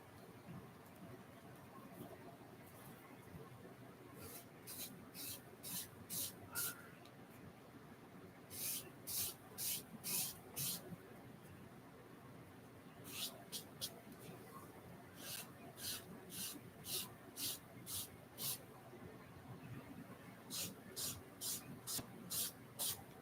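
A small trigger bottle squirts bleach onto a paperback book in quick rhythmic bursts of crisp, close spritzes, grouped in several runs with pauses between them, over a low room hum.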